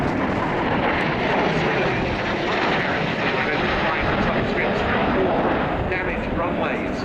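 A Polish Air Force MiG-29 jet at the RIAT 2016 airshow, a loud, continuous broadband engine roar filling the whole stretch, with an announcer's voice running over it.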